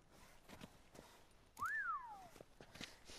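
A single rising-and-falling whistle sounds clearly in The Witcher 3: Blood and Wine, a short melodic pitch sweep lasting under a second amid faint background ambience and soft footsteps.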